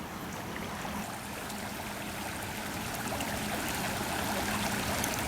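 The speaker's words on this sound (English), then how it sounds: "Frog Creek is flowing strong." Frog Creek flows strongly, a dense continuous rush of water, steady and close, with no voices over it.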